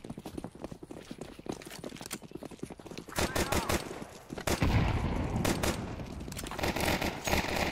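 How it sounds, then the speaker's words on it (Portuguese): Gunfire in Counter-Strike 2, with rapid bursts of shots rattling in clusters, growing louder and denser midway, mixed with game noise and an excited voice talking over it. "vou tentar tocar um tiro"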